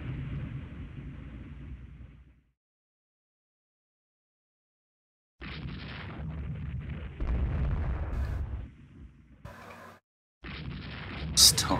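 Naval guns fire and shells burst during a Rule the Waves 2 battle against the Rodney: heavy booming blasts and rumbling explosions come in bursts, broken by a stretch of silence, with a sharp pop near the end.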